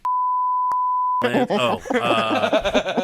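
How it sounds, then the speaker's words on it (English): A steady high-pitched censor beep sounds, briefly interrupted by another short beep, then voices break in talking and laughing over each other. "We'll beep that out in post"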